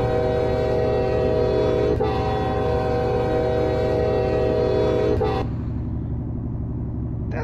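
A car's novelty horn imitating an Amtrak-style American train horn blasts loudly and continuously as a sustained multi-tone chord for about five seconds, then cuts off, leaving a steady engine rumble.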